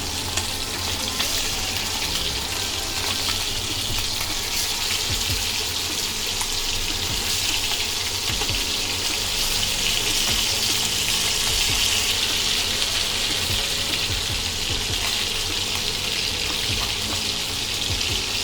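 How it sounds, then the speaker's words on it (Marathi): Saundale fish fry in oil in a pan, giving a continuous loud hiss and crackle close by that holds steady throughout, with no talking. "हे बघा हे असे मध्यम असे तळून घ्यायचे, एकदम करपवायचे पण नाही।"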